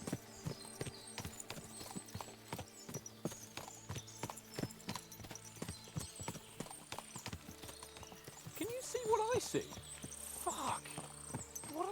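Horse hooves clip-clop in a steady walking rhythm in Kingdom Come: Deliverance II, moderately near and continuous alongside game music and occasional whinnies, with someone talking over it.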